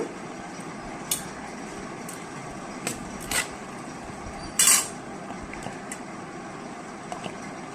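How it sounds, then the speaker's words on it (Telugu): Cooked rice is mixed into lemon rice in a pan, scattered scrapes and clinks of a spoon against metal over a low steady background hum. "ఇప్పుడు దీంట్లో అన్నం వేసి కలుపుకున్నాము. ఉండలు లేకుండా అన్నము ఇలా కలిపి పెట్టుకోవాలి."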